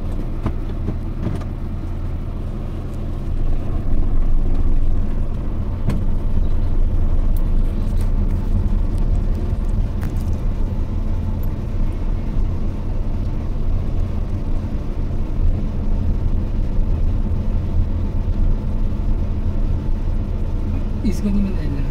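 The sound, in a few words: car driven by a learner driver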